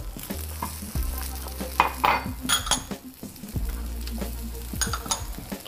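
A masala omelette fries in a pan with a steady sizzle, while a utensil scrapes and taps against the pan in several bursts as it is moved around.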